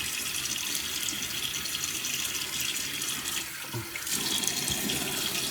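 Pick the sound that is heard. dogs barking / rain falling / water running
water running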